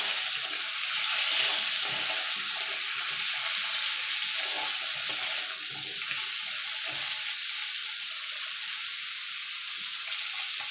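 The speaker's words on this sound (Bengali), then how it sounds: "ডাঁটাটা বেশি ভাজার দরকার নেই, একটুখানি নাড়াচাড়া করে নিলে হবে তেলের মধ্যে।" Drumstick stems being fried in hot oil for a fish curry, a steady close sizzle and hiss running throughout with faint stirring scrapes underneath, no voices.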